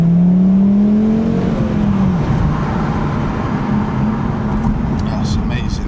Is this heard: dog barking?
no